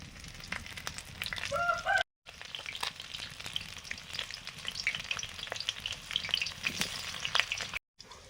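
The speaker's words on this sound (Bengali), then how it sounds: "সর্ষের তেল দিলাম। যে মাছে নুন হলুদ লঙ্কা গুঁড়ো মাখিয়ে নিয়েছি। আর এখন আলুগুলো একটু ভেজে নেব।" Potatoes frying in hot mustard oil, a steady close crackling sizzle with stirring scrapes, briefly cut off twice; a rooster crows faintly in the background early on.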